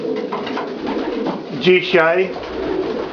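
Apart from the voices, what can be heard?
domestic pigeons cooing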